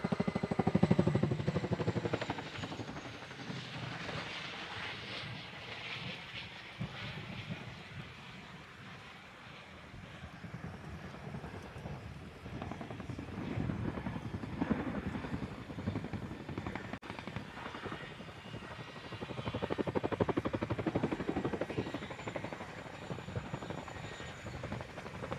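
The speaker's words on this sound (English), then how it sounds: "After the nose-down quick stop, the Chinook will be expeditiously manoeuvred forward and down" A Chinook helicopter flies a display at Farnborough International Airshow, its rotor drone and engine roar heard from a distance across open air, swelling and fading as it manoeuvres, with some wind noise.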